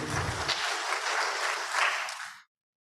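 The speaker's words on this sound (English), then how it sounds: "So give yourself a round of applause for that" A room of fire council attendees bursts into brief applause, a dense wash of clapping lasting a couple of seconds before cutting off abruptly into silence.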